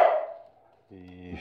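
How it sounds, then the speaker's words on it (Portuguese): Dogs bark once nearby in a home, a single short bark breaking a moment of quiet, with a person talking just before it. "Desculpa os cachorros aí."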